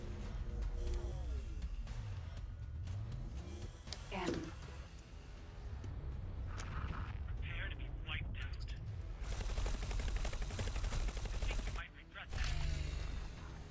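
Ship guns fire in X4 Foundations space combat, repeated rapid bursts of gunfire over a steady engine drone and game effects, with some louder stretches of continuous shooting and a voice talking at times.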